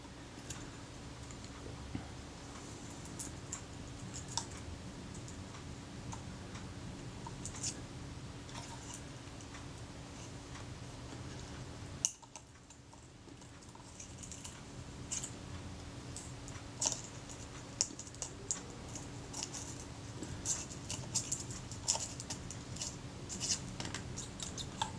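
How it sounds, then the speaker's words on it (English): Leatherette being pried and peeled off the aluminium body of a Kodak Retinette IIA camera, with close, sporadic small clicks, scrapes and ticks over steady low room hum. "Now here I'm mostly levering up the leatherette"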